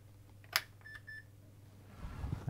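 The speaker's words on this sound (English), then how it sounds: "I heard our Roger beep there." An early vintage laptop, among the first ever made, gives a short high electronic startup beep after a soft click as it switches on, quiet and close over a low steady electrical hum.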